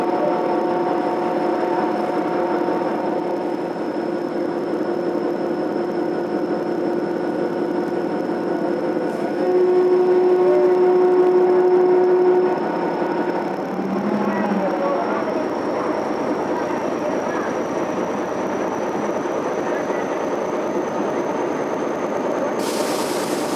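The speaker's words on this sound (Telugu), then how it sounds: "ట్రైన్ డిపార్ట్ అవుతుంది గైస్" Kangra Valley toy train pulling out of a quiet station in India, a steady low engine drone with a long held horn-like tone midway and a rising mechanical whine, close and continuous.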